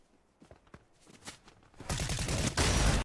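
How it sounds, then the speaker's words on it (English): Shotgun fire erupts in a Fortnite match: a few scattered sharp shots and footsteps, then a heavy, loud burst of close blasts near the end that cuts off abruptly. "I got shotgunned."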